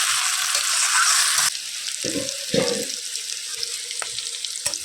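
Fried vegetables tipped into a hot pan for a Bengali mixed-vegetable dish, with a steady loud sizzle, then a burst of clattering and stirring as they land, settling into continued frying crackle.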